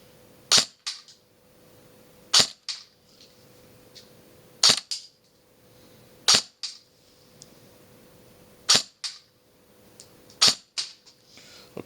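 An Element LA5 gun, fired during testing, gives six sharp, close cracks spaced roughly two seconds apart, each one a short snap with a brief tail and near-quiet between shots.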